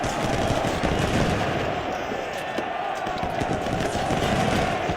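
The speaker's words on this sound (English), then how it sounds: "Oh man, the artillery is good in this game." Artillery and massed gunfire from the Ultimate General: Civil War video game form a dense, continuous crackle of shots and booms. A voice may be talking faintly beneath it.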